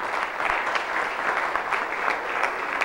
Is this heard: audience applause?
yes